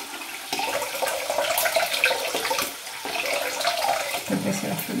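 Water gushes steadily from a tap into a basin, a close, continuous splashing rush that shifts in tone as the flow changes, with no talk over it.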